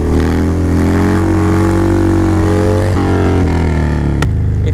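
Harley motorcycle on a Shinko 777 tire revving hard during a wheelie attempt, a loud close deep engine roar holding and shifting pitch, with a sharp drop near the end.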